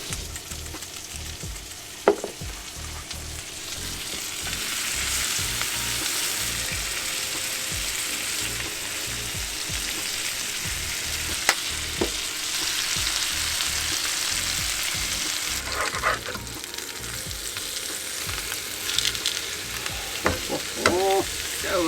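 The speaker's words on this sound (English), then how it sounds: "Alright, that butter is ready to be cooked" Butter sizzles in a pan inside a truck camper, a steady crackling fry lasting throughout, with occasional clinks and scrapes of a utensil stirring.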